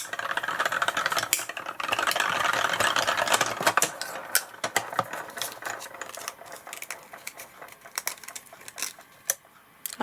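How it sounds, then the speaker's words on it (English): Small manual die cutting machine cutting a paper frame: a grinding, crunching roll with rapid clicks and rattles, growing sparser and fainter toward the end, heard close up with no talking. "So we can quickly die cut this frame."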